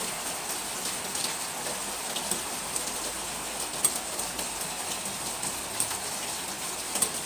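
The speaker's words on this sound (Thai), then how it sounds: "เสียงฝน" Constant rain patters on a surface, with a few sharper drops standing out now and then over the steady wash.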